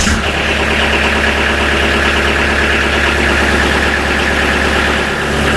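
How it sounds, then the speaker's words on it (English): A Kubota B3150 tractor's diesel engine idles close by, a loud, steady, throbbing low rumble that stays constant with no talking. "We'll give Trevor a minute or two to idle, and then we'll turn him off"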